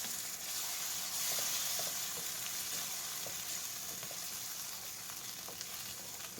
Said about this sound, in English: Okay, let's get this stirred up.